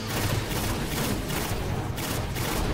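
The Bad Juju exotic rifle in Destiny fires in a steady rhythmic stream of loud, close, booming shots, each burst rolling into the next with no pauses and no voices.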